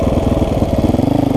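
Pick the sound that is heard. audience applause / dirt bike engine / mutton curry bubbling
dirt bike engine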